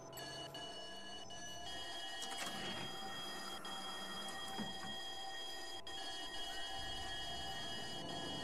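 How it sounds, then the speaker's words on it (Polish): Brakes of a Mercedes O405N2 bus in the Roblox game Urbanmove 4: a quiet, steady mechanical hiss and whine with faint tonal hums and a few soft clicks, no voices. "Dźwięk hamulca też jest spoko."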